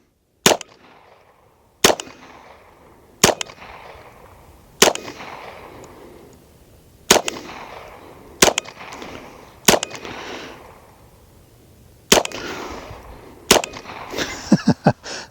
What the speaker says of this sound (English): I'm going to keep trying to shoot it while it's moving.